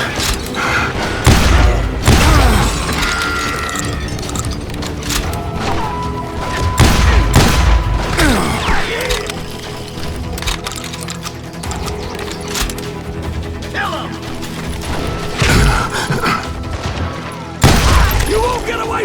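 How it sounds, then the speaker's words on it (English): Gunfire in Call of Juarez: Gunslinger, a Western shootout in a town street, loud close shots and booms in repeated bursts amid crashing impacts, with voices shouting at times. "They're shooting in the street!"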